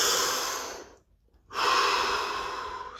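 One deep breath taken during a guided relaxation body scan: a long, airy inhale, a brief silent pause, then a slow, full exhale, close to the microphone.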